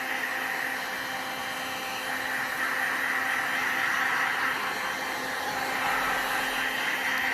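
A heat gun or hair dryer blows hot air over a resin bowl, giving a steady, loud whirring hiss with a constant motor hum that holds without a break.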